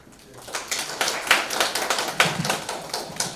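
A modest round of applause from a small conference audience welcoming a speaker, scattered claps building and continuing steadily for a few seconds.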